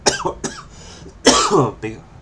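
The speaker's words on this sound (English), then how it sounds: "I'm having this big coughing fit." Harsh, repeated coughs in a close-up fit, several raspy bursts with throat clearing between them.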